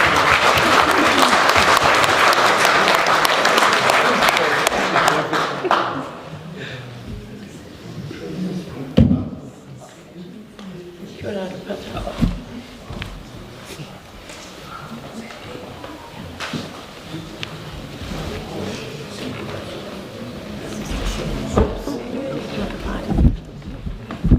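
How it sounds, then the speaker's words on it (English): A room full of people at a museum gathering gives a big round of applause for panellists, loud dense clapping for several seconds that fades into murmured talk, shuffling and occasional knocks. "if you'd give a big round of applause"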